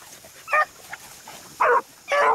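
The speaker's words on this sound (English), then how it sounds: "That's barking." Beagle hound on a rabbit trail outdoors: three or four sharp, separate barks and bays in an irregular rhythm, fairly close and loud, with no talk.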